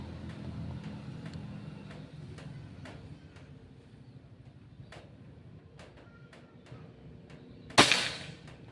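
A single sharp shot rings out from a PCP Bocap Pajero Gen 5 air gun loaded with a 13.6-grain Hercules pellet. The loud crack comes near the end, after a quiet stretch broken by faint ticks and background noise.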